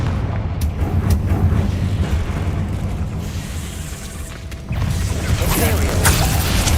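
A Confringo spell blast in Hogwarts Legacy bursts loudly over a dense rumbling game soundtrack, with a sharp fiery boom near the end.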